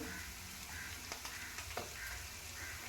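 Ginger garlic paste fries in a pan for an Andhra gongura egg curry. A faint, steady sizzle runs throughout, with a few soft stirring scrapes and no speech.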